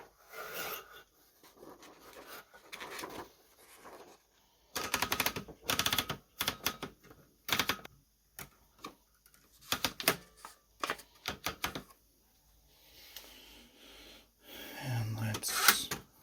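Typing on a nearly 80-year-old Remington Rand KMC manual typewriter, heard as bursts of rapid key strikes and clacks separated by pauses, close and fairly loud, with some rubbing and handling noise in between.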